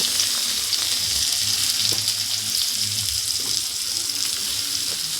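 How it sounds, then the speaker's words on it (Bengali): Onions fry in hot oil with a constant close bright sizzle and crackle, steady throughout with no voices. "তেলে বন্ধুরা আমি পেঁয়াজটাও ভেজে নেব"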